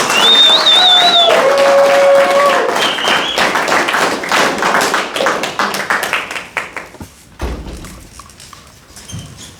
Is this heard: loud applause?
yes